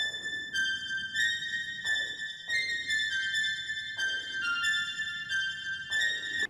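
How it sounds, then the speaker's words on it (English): Recorded synth top melody in the song's scale: a bright, sustained tone stepping between a few pitches in a slow, even pattern of roughly eight notes, played cleanly on its own. "So the last thing I added was this top melody."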